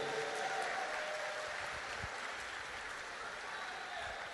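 A church congregation gives Jesus a round of applause during a Portuguese-language sermon, steady crowded clapping from a large room, fairly distant and even throughout.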